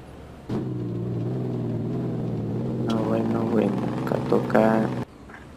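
A logging truck in the 18 Wheels of Steel Haulin driving game descends a slope on engine braking, producing a steady low engine rumble and drone throughout, with someone talking over it for part of the clip.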